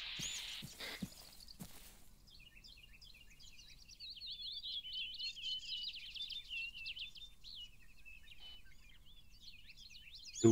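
Bird chirping in the Arma 3 video game: a run of quick, high, twittering calls repeating for several seconds against a quiet background, after a few sharp knocks at the start.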